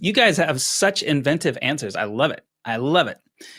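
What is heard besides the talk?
None of the usual background noises is heard.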